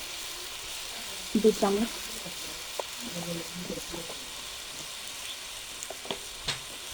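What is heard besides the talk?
spice paste with ginger, cumin and chili frying in a pan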